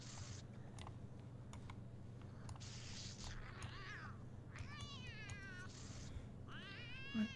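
Cat meowing in The Sims 2 life-simulation game, several separate meows and drawn-out caterwauls spread over a steady low background hum, with no talking.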